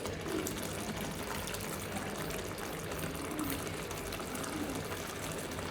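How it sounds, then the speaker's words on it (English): Water poured into a pan of baby potato curry with fried boiled potatoes, a steady close pouring and splashing that runs unbroken for several seconds with no talk. "If you want, you can add some little water also."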